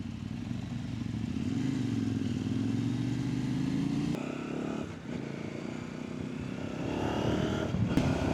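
A Kove motorcycle, a Chinese-brand bike from either the 800X Pro or 800 Rally, runs steadily underway with a continuous engine drone and wind rush, close and fairly loud throughout with no talking.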